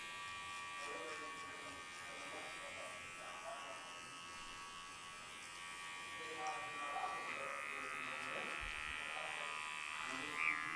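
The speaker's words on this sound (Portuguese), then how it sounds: "Agora eu vou pegar minha máquina de corte novamente." An electric hair clipper buzzes steadily during a textured undercut haircut at a barbershop, its drone rising slightly as it works through hair, with someone talking over it.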